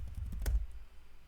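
Computer keyboard keys are tapped in a short quick run of soft clicks, with one louder thump, then faint room noise.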